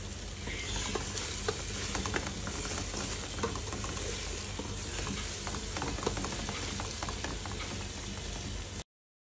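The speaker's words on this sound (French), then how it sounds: "On va faire mijoter le tout pendant approximativement 5 minutes." Beans with thyme and aromatics cooking in a pan for a Cameroonian sautéed bean dish, a dense, even bubbling sizzle running steadily and close with small clicks of stirring throughout, then cutting off abruptly near the end.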